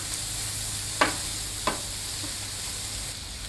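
Chicken sausage sizzling on a flat-top griddle, a steady close hiss with two brief scraping taps of a spatula spreading the meat, no voices.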